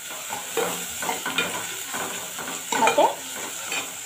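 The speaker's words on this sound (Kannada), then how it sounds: "ಇದನ್ನು ಚೆನ್ನಾಗೆ ಫ್ರೈ ಮಾಡ್ಕೊಳ್ಳಿ" Garlic and green chillies frying in a pan for prawn curry with coconut, a close continuous sizzle with rhythmic stirring scrapes and a few metallic spoon clinks, a single word spoken briefly.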